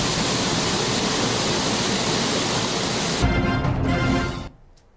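Water roars steadily through four spill gates opened a foot each at Kantale reservoir, a loud, unbroken rush that shifts in tone partway through and then drops away sharply near the end.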